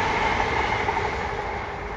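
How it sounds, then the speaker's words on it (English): A train rolls past close by, a loud continuous rumble and roar with a faint whine and rattle throughout, steady and unbroken. "We'll wait for the train to go past."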